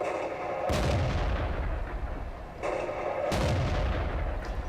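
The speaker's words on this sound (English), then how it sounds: "You just need to watch out for those stray arty shots, as you guys can see here." Artillery fire in a tank battle video game around a Pz Sfl V Sturer Emil tank destroyer, with two heavy booming shots a few seconds apart over a constant loud rumble of engine and battle noise, with no voices.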